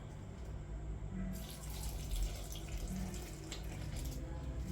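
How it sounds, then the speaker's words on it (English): Water pours steadily into a chicken fritter mixture of grated chicken breast and hot pepper, a soft continuous splashing stream close by, starting partway in over a low kitchen hum. "we're going to pour some water."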